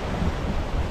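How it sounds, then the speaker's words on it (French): Strengthening wind on a sailboat heading toward La Selva, a dense, steady roar of gusts and rushing water buffeting the microphone with no voices. "ça forcit le vent."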